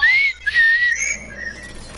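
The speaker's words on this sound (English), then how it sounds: "All I get is whistle." A person whistles a few short, bright, rising and falling tones close by, with brief pauses between phrases and no talk over it.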